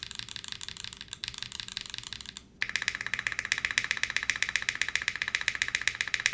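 Typing on a modded KBDFans Margo mechanical keyboard, a steady run of close, crisp keystrokes that gets louder and denser after a brief pause partway through.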